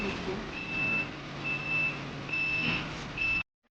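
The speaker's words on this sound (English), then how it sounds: "Whenever it's something close to the right side or left side, it'll beep." A Rydeen proximity sensor on a firetruck gives repeated high, evenly spaced electronic warning beeps, loud and close, over engine rumble before cutting off abruptly.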